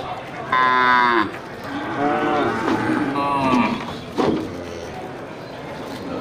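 Aceh bulls mooing at a livestock market, several loud, drawn-out moos from close by with shorter lows between them, over a steady murmur of market noise.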